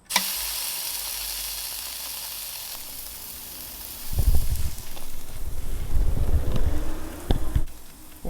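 Woolworths steak dropped onto a hot BBQ, a soft hiss giving way to a louder, crackling sizzle with bursts of spitting fat, close and alone, with a faint windy rush early on.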